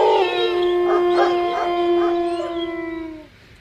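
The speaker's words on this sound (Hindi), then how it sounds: "इस बार कुत्ते के भौंकने और रोने दोनों की आवाज़ फिर से एक साथ आई।" A dog gives a sustained, loud howl with a steady tone and wavering overtones, then fades out at the end, with no distinct barks.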